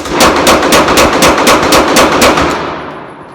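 A Dan Wesson Valkyrie Commander 9mm pistol firing Hornady Critical Defense rounds: about ten loud, sharp shots in quick, even succession, close up, followed by a short ringing decay.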